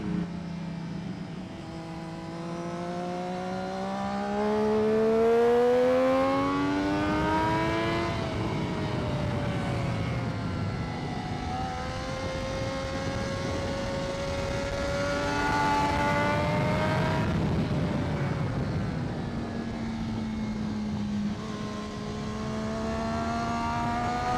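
A motorcycle engine on a race track at NJMP during rider training revs up and down through rising and falling pitch sweeps as the throttle opens and closes, steady and prominent for over twenty seconds with no talk.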